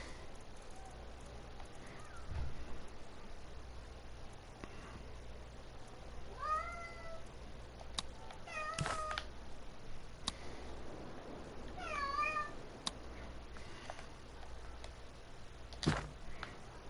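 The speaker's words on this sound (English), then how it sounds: "hear my cat." A pet cat meows in short rising calls, a few separate cries spaced over several seconds against a quiet room hum, fairly faint and with no one talking.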